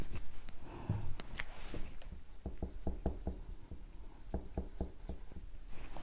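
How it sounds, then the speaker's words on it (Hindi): A pen scratches across paper while an English translation is written by hand, in a series of short, soft strokes heard close over a low background hiss. "तो सबसे पहले इसी को लिखेंगे"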